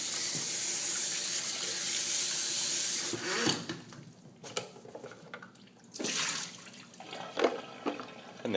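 Water rinsing out the tank of a Hoover SteamVac, a steady pouring, splashing stream that then breaks into sloshing and intermittent gushes.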